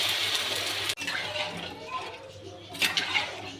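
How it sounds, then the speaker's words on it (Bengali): Water pours into a pot of sautéed Bengali fish curry as a steady close splashing wash that briefly breaks off, then continues more softly with a few louder gushes near the end. "কষা হয়ে গেছে, এবার আমি জল দিয়ে দেবো।"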